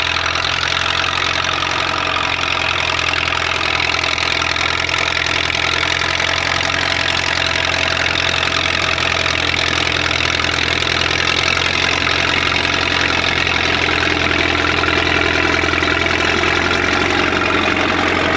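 Rebuilt Caterpillar D4 bulldozer engine running steadily at idle, a loud, even diesel rumble with no breaks and no voices.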